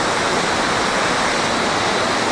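The Green River rushing past where the Mud River branches off, a loud, steady broadband roar of flowing water heard up close with no voices.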